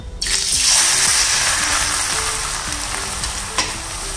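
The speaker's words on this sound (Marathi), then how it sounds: "आता तेल चांगलं तापलेलं आहे, यामध्ये आपण हा किस थोडा थोडा सोडायचा आहे।" Grated potato dropped into very hot oil for fasting-style potato chivda bursts into a loud, close sizzle. The frying then settles into a steady crackling hiss with no talking.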